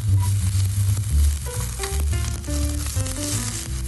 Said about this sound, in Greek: Σε ένα ξεχωριστό τηγάνι βάζουμε το σκόρδο να αρωματιστεί και να δώσει τις γεύσεις του και προσθέτουμε το κολοκύθι.